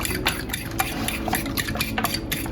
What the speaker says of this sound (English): Then we stir it up very good. Always use a fork, don't use a whisk.